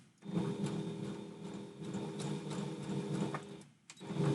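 A sewing machine running a zigzag stitch on spandex, its needle whirring in a steady close mechanical chatter that slows briefly near the end and then picks up again, with no voices.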